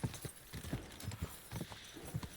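A horse gallops in the video game Kingdom Come: Deliverance II during a horse race, with steady rapid hoofbeats that are fairly quiet and continuous.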